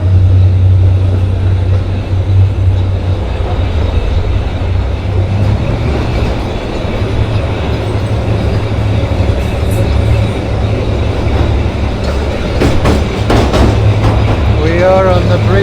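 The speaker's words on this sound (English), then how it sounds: "There's another train." Loud rumbling train noise with rhythmic rail clatter throughout, an old train passing close by near Cairo, Egypt; faint voices briefly audible near the end.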